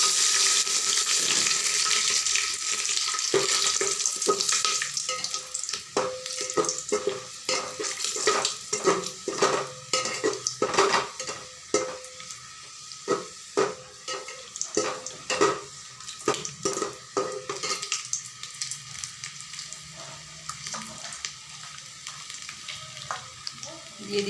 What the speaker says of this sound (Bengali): তেল গরম হয়ে গেছে, তো এখন আমি এখানে ফোড়ন দিয়ে দিচ্ছি,